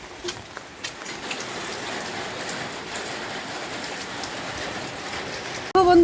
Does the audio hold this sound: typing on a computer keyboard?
no